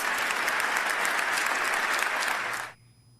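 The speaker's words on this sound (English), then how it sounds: "There was actually applause for that." Steady, dense audience applause from a crowd, loud and continuous for nearly three seconds before cutting off abruptly into quiet.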